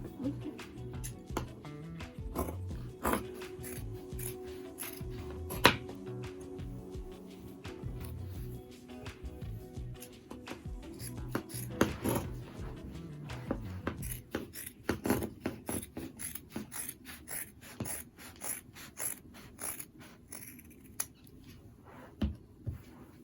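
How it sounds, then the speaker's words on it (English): Scissors cut ankara fabric for a half-round handbag in quiet, intermittent snips and rustles at close range. "you cut it perfectly circle so that it won't lose shape, and you can cut it the way you want"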